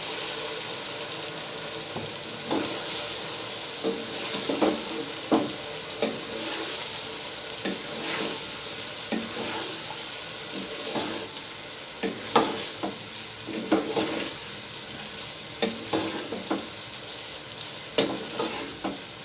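Boiled beef brain frying with masala in a pan, a steady bright sizzle with intermittent spoon scrapes and stirring clicks throughout, close and continuous, no voices.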